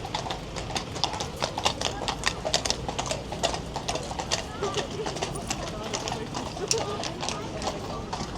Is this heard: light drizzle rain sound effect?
no